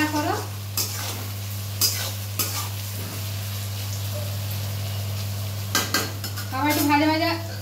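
Sugar cooking in a pan gives a steady sizzle and frying hiss while a utensil scrapes and clinks against the pan in irregular strokes, near and moderately loud over a constant low hum.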